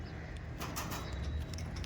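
Giribaj pigeons, an old-line Uttar Pradesh and Rajasthani flying breed, coo softly in low, murmuring tones, close by and continuous over a short stretch.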